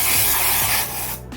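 An aerosol hairspray can hisses in a dense, close, continuous blast aimed at the front of the hair, then cuts off abruptly after about a second.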